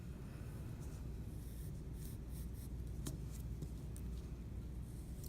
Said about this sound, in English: I'm gonna trace around my tessellation